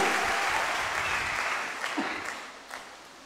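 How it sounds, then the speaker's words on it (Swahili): A church congregation applauds during a Swahili sermon, a broad wash of clapping that starts full and gradually thins and fades out over a few seconds. "ungenipigia makofi, ungempigia Jehova makofi mengi"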